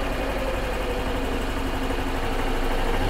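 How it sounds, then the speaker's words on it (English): A 2014 Yamaha Drive gas golf cart engine at a low idle, a steady close rumble with an even vibrating drone and no talking. "Just kind of have it a low idle here."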